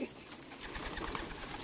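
Pigeons or doves cooing softly while being hand-fed peanuts, a low steady murmur of calls with faint background noise and no talking.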